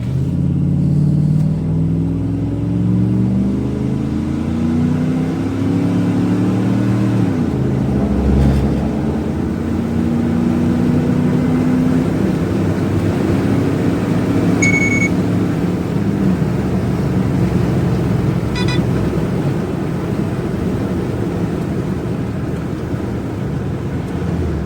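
A vehicle with a 5.9 Magnum engine and its stock intake runs a 0 to 60 time trial, its loud engine roar climbing in pitch through several gear changes before settling into a steady drone, with no talking.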